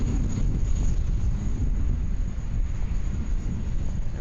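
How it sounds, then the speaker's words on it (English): A Jetstar Boeing 787-8 Dreamliner takes off from Sydney Airport, bound for Phuket via Melbourne. It produces a steady, loud low roar of jet engines with broadband rumble throughout, mixed with some wind buffeting and no speech. "the 787-8 Dreamliner heading off to Phuket via Melbourne"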